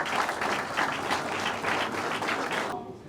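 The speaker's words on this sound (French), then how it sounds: "vos applaudissements." Audience applause at a Francophonie Games medal ceremony at a national museum, a dense, steady clapping from a crowd lasting about three seconds before tapering off.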